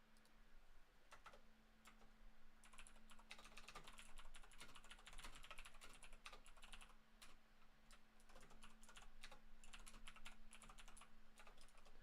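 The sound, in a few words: typing on a computer keyboard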